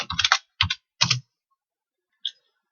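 A few quick bursts of typing on a computer keyboard, clustered clacks in three short groups and one last isolated key tap, close and crisp against silence.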